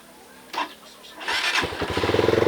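A Rusi Flash motorcycle engine starts up close by: a brief crank, then the motor catches and settles into a steady, rapid idling putter.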